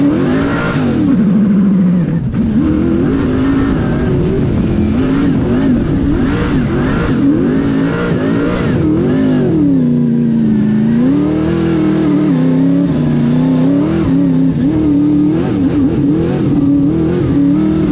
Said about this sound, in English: But I did get the car to drift for a couple of seconds